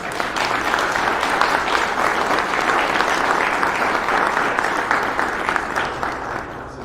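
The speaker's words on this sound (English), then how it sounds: "Let's give him a round of applause." A full round of applause at a county commissioners' meeting, steady and close, with dense clapping sustained for about seven seconds before tapering slightly.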